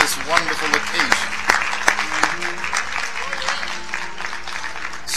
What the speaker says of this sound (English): Let's give God a hand clap of praise.